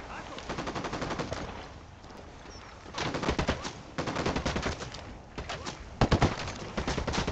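Automatic gunfire in the video game Ghost Recon Wildlands, several loud rapid bursts separated by short pauses, close and dominant.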